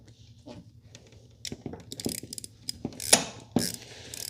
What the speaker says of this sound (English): grab your socket and tighten it up